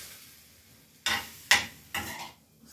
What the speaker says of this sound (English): And then I'm going to let it cook until it's all the way cooked through.